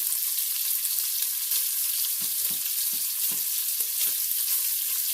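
Bratwurst frying in oil in a Pampered Chef Quick Cooker: a constant bright sizzle and crackle of hot oil, with intermittent louder pops and spatters, close and continuous, no speech.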